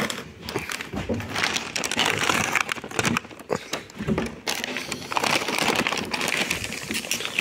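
Packaging being handled and torn open to unpack a delivered car steering column for a BMW 1 Series E87, rustling and crinkling up close with irregular bursts and no talk.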